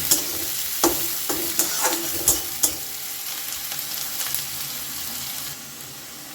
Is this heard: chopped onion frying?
yes